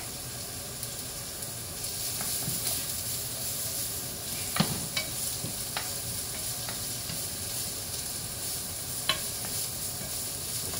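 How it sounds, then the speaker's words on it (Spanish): Sliced garlic, onion and celery fry in a pan for a Sicilian caponata, giving a steady close sizzle and hiss with occasional light clinks and scrapes of stirring, and no one speaking. "Echamos el ajo, las láminas de ajo, y también le vamos a echar el celery."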